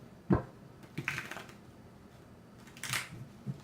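Tarot cards being shuffled by hand, heard as a few scattered papery taps and slaps with quiet pauses between them, close and fairly soft.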